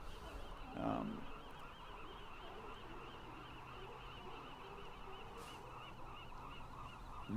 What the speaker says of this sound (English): some birds are disturbed